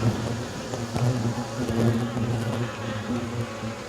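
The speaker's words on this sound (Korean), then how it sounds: "말벌도 지금 한 마리 좀 들어가 있거든요" A hornet buzzing inside a hornet trap, a close, steady droning hum with small shifts in pitch and loudness lasting the whole time, with no voices.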